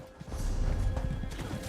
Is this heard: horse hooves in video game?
yes